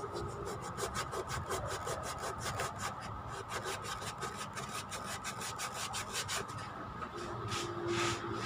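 A Satria Neo motorcycle tail light lens being rubbed by hand with a petrol-soaked cloth, giving a steady, rapid back-and-forth scrubbing rasp close up, continuous and without speech.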